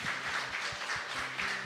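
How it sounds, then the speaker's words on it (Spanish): A church congregation clapping together during a worship service, a steady, dense patter of many hands at moderate volume from across the room, with no voices. "Unas palmas al Señor por Crisbel."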